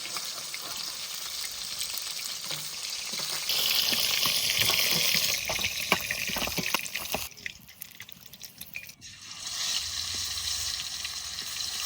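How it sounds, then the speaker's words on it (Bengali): Steady sizzling of pieces of a large two-kilogram snakehead fish frying in hot oil, with occasional clinks and a brief dip in the crackle before it swells again. "মাছ ভাজা হয়ে গেছে, এবার তুলে নেবো"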